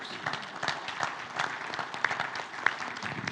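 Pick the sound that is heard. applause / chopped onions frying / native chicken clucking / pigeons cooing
applause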